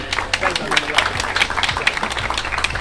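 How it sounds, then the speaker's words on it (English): Applause from an event audience for the artist Jonathan Minshull, a steady patter of many hands clapping at close range, with faint crowd murmur beneath throughout. "I'd like a round of applause for Jonathan."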